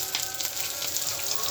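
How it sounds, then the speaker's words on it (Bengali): Boal fish frying in a pan, a brief, steady hiss of hot oil with soft crackles and no talking. "বোয়াল মাছটা ভাজি হয়ে গেছে, এখন নামিয়ে নিব।"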